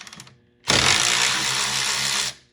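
A Hyper Tough cordless electric ratchet whirs loudly and close for about a second and a half while breaking a bolt loose, with a few faint knocks just before.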